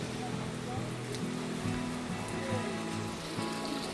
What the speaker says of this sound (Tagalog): Malakas na yung ulan, no.